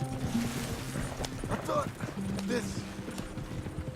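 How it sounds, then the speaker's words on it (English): Horses' hooves clip-clop steadily at a gallop in Red Dead Redemption 2, a continuous mid-level rhythm running under in-game dialogue with a brief whinny-like tone partway through. "You'll run the horses into the ground."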